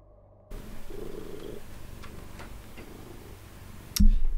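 A hefty cat purrs softly while perched on the arm of a chair indoors, a low continuous rumble with faint light ticks, ending in a sudden close thump.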